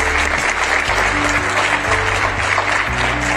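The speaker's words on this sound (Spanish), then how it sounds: "Fuerte el aplauso." Sustained applause from a crowd at a dome construction event in Villarreales, a dense steady clatter of clapping hands that holds evenly throughout.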